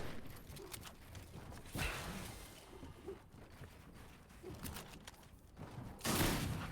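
Gunfire in a video game skirmish: bursts of rapid shots crackle at moderate distance, with several louder volleys standing out against a busy background and no clear speech.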